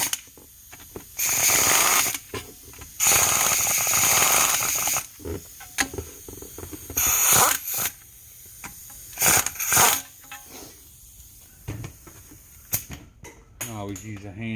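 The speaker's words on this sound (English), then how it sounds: "I always use a hand ratchet to finish tightening them" A hand ratchet tightens bolts on the transmission valve body of a 1971 Ford F-100, giving short bursts of close mechanical clicking separated by pauses, with a voice talking in between.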